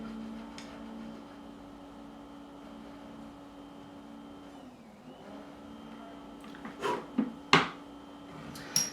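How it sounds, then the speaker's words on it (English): A faint, steady steam cleaner whirring hums in the distance outdoors, dipping briefly in pitch, followed by a few sharp clunks and clicks nearby. "a whirring, that's outside. Someone's steam cleaning something."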